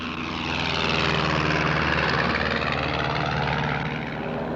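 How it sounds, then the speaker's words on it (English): An amphibian propeller plane drones steadily in flight, a loud, continuous engine roar with broadband rush that holds evenly throughout without pause. "I was in an amphibian plane heading back toward the city"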